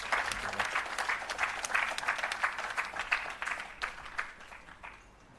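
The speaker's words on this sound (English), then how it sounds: "Please give me a round of applause for Mr." Steady applause from an audience at a restorative justice conference, many hands clapping at a moderate distance, gradually fading toward the end.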